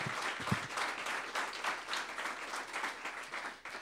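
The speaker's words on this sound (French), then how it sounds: "Un peu d'applaudissements." An audience at a public talk on environmental policy applauds in a steady wash of many hands clapping, sustained for several seconds at moderate distance, with no speech over it.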